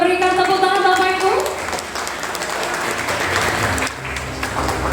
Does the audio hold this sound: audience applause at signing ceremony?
yes